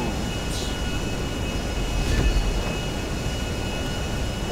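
A GTA V airplane engine drones steadily and loudly throughout, a constant broad roar with a faint whine riding on top and one brief swell midway, no talking.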